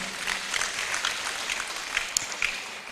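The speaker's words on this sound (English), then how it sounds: "I think the Chief Justice deserves a round of applause." An audience at a Supreme Court 150th anniversary celebration applauds the Chief Justice, giving a sustained wash of clapping with scattered sharper claps standing out, moderately loud and without speech.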